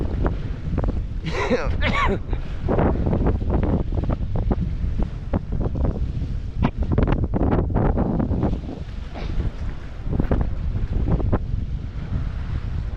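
Rough sea and strong wind on Lamon Bay from a small boat, with heavy wind buffeting over a churning wash of waves; a voice speaks briefly amid the noise.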